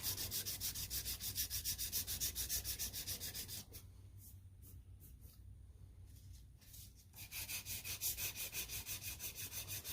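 Close, steady rhythmic sanding strokes on a knife handle made of two materials, one of them ironwood, with a quieter, lighter patch of rubbing in the middle before the strokes resume.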